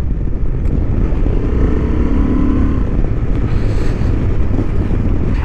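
A 2023 Honda XL750 Transalp pulls hard on a racing track, its engine droning loud and continuous under heavy wind rush against the microphone, with no pauses.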